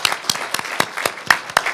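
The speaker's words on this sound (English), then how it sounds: "please join me in giving our roundtable guest speakers a round of applause" A sparse audience at a community roundtable dialogue claps for the guest speakers. Individual claps land distinctly and close, about seven sharp hand claps at an irregular rhythm rather than a full ovation.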